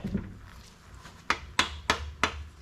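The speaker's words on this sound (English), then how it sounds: "tap this with my special offset engine hammer" Four sharp metallic taps from an offset engine hammer during assembly of a Ford 445 FE engine, struck at a steady rhythm close by, each with a short ringing decay, and no talk.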